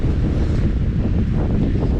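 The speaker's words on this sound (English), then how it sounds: "as you can probably hear in the camera," Strong wind buffets a microphone on an exposed mountainside, a continuous low rumbling roar with gusty swells and no voices.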